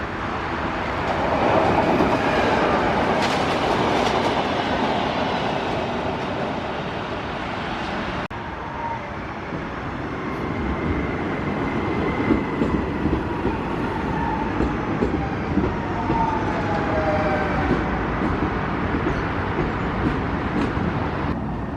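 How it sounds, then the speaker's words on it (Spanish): Trains rolling through Santiago de Chile in winter, a steady rumbling rail roar with clickety-clack wheel noise that swells and holds for the whole stretch, close and loud, with no voices. "veremos los trenes que podamos"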